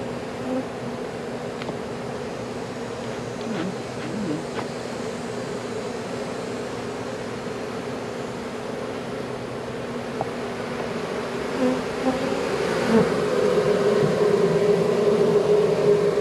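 Honey bees drone steadily around a swarm trap and hive box outdoors, a dense continuous buzz close by that grows slightly louder near the end, with no talking.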